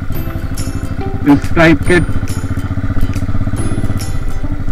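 A cafe racer motorcycle rides along a road, its engine a steady, loud, close drone with a few brief clattering bursts, while someone talks over it.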